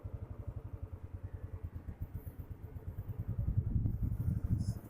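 A jeep engine near Manali and Kullu gives a faint, rhythmic low chugging that grows louder and busier toward the end, with no voices.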